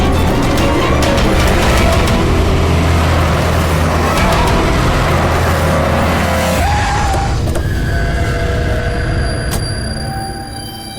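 A taxi speeding through a road chase, its loud engine and road roar steady and close for most of the stretch, then easing off and fading near the end, with a sharp high tone briefly cutting through.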